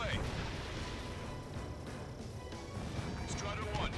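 A missile strikes and destroys a tank in a war video game, a rumbling crash and blast layered with booming battle noise, loud and dense for a few seconds.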